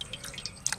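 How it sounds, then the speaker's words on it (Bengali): Water drips in small, irregular drops while fresh mangoes are washed for pickle, the plops light and close with a faint watery background, short and alone. "আম এখন সুন্দর করে ধুয়ে নেব।"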